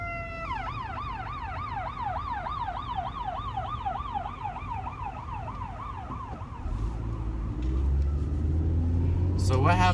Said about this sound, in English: Watch, babe, because there's an ambulance.